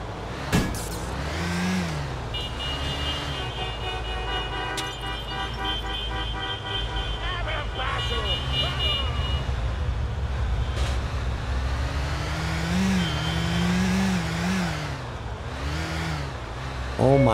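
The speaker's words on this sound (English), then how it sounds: "the traffic in this game" Busy car traffic in the GTA 4 video game, with engines revving and repeated horn toots sounding loudly over a constant street roar, while a voice talks across it.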